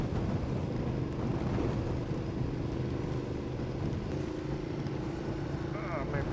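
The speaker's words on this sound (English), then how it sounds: "the wind's getting stronger" Heavy, continuous wind roar buffets the microphone while a Ducati Multistrada 1200 is ridden through a storm, with a steady engine drone underneath and no clear break.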